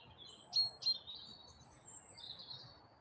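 Birds chirp and call outdoors in the morning, with two short bright tweets near the start and then thin high trills, soft and fairly distant over a low rumble of background noise.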